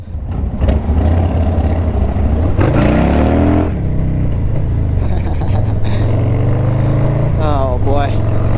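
Lowrider car engine revving hard on a city street: loud, close bursts of throaty rumble that climb and fall in pitch several times, with deep idle between the revs.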